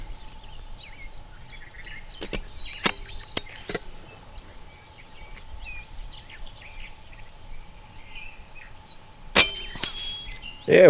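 Sharp metallic clangs from airgun pellets striking a spinning metal pig target, fired from an AirForce Condor SS air rifle: a few isolated hits early on, then a louder cluster near the end, with birds calling faintly in the outdoor background.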